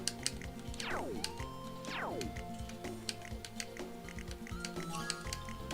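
Rapid clicking keystroke ticks from a name-entry screen in Hot Shots Golf 3, steady and fairly faint, layered over bright game music with falling synth sweeps and no voices.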